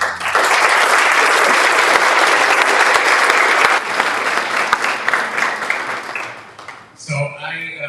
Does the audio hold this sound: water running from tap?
no